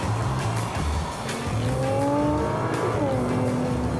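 Nissan GT-R Nismo engine under way, a loud steady drone with rising and falling tones as the revs climb and shift, continuous throughout with no talking.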